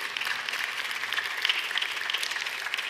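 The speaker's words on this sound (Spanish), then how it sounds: "Un aplauso para Cristo." A church congregation claps together in a steady, dense wash of applause at moderate distance, continuous for several seconds without a break.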